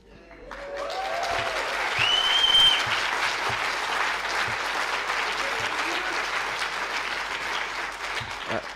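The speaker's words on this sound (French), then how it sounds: "c'est gentil de m'applaudir" A crowd at a political speech applauds loudly, with clapping swelling in quickly, peaking early, then holding as a dense sustained roar of hands, with a few faint voices mixed in.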